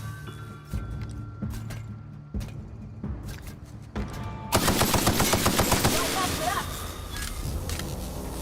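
Gunfire in the sci-fi shooter The Outer Worlds: several separate sharp shots, then a long dense burst of rapid, loud firing with clattering mechanical noise, while a voice talks over the action.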